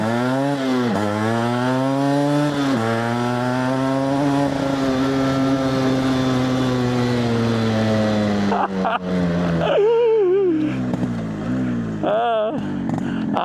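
A rebuilt Yamaha RX115 two-stroke motorcycle engine revs hard and close, holding a high buzzing whine, then dropping and blipping the throttle in sharp bursts near the end.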